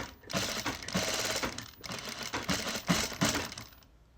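Sewing machine stitching a hem with a hemming folder foot on thin, see-through fabric, a close, steady mechanical whirr running in several bursts with brief pauses, then stopping near the end.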